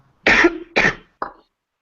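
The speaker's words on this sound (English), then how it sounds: "No, I was coughing." Three close coughs, the first two sharp and loud, the last smaller and softer, with no speech around them.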